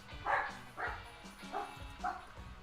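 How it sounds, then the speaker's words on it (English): Dogs barking in four clear, evenly spaced woofs, close and fairly loud, with nothing else competing. "The dogs are barking."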